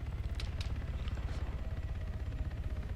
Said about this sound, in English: I did hear the chopper fly over